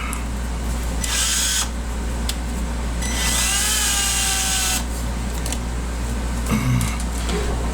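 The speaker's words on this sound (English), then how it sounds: "I like to use a drill" A power drill whines in several bursts, rising in pitch as it spins up and bites into the plastic casing of a Dodge JTEC engine computer, starting with a small bit, close and loud with pauses between runs.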